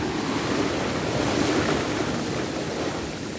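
Sea waves rush and break continuously along the shore at Ganpatipule, a loud steady roar of surf with wind noise across the microphone.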